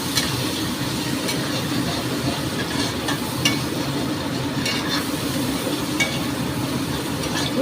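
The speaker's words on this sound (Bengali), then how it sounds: "আর এই পেঁয়াজ। ভালো করে নাড়বো।" Onions sizzling steadily in hot oil while being stirred, with occasional scrapes of a spoon against the pan.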